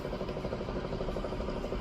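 A fully automatic washing machine winding into its spin cycle gives a steady, close mechanical hum with a rapid pulsing rattle. The drone holds even and fairly loud throughout, and no one speaks.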